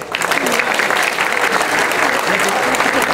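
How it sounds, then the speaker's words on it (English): Dense, steady applause from a large crowd at a Houston police and community ceremony honoring police officers, loud and unbroken for the whole stretch. "Let's give them a big applause."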